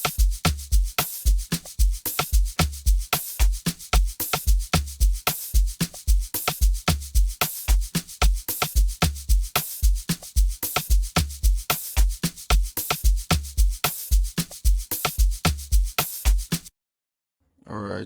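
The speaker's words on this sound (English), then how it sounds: "Then everything all together with the shaker sounds like this." A full amapiano drum pattern built in FL Studio, with layered punchy toms, kicks and a shaker, loops in a steady, dense groove for about seventeen seconds before cutting to silence.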